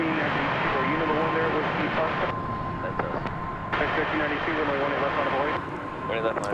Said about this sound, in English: That is United Express Flight 6114, operated by Mesa Airlines.